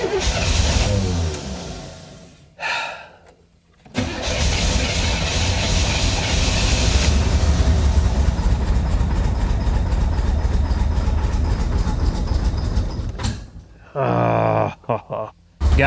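A 1985 Chevy Corvette pulled from a Florida swamp runs loud with the pedal floored, a steady heavy engine roar that drops out briefly and then holds for about ten seconds before stuttering, with a voice heard at the start.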